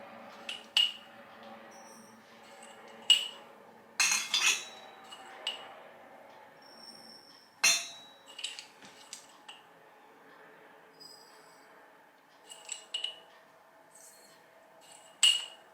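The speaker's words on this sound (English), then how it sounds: "Next, I'm going to put a teaspoon of salt to each jar." A teaspoon taps and clinks against glass canning jars while salt is spooned in, with sparse, bright clinks spaced several seconds apart in a quiet room and soft handling noises between them.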